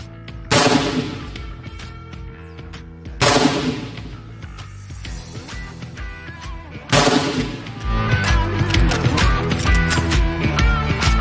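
Three loud, sharp rifle shots from a Taurus T4 DMR fitted with a Sig Sauer Tango6 scope ring out at a firing range, spaced a few seconds apart, each with a ringing decay.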